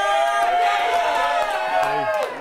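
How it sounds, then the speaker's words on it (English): A television talk show's studio audience cheers and whoops in a loud, sustained wave that swells and then tapers off near the end. "Hell of a crowd."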